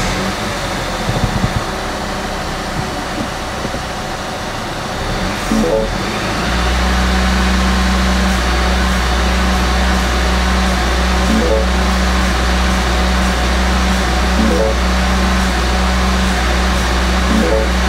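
A Mini Cooper S engine idles rough and uneven, then settles into a steady loud drone with a constant low hum, with occasional faint flutters and dips in the revs, heard close with no talking.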